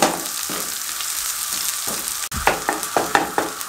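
Sliced onion softens in hot oil on a medium flame, a continuous close sizzle and crackle with repeated spoon scrapes and stirring clatter that grow busier toward the end.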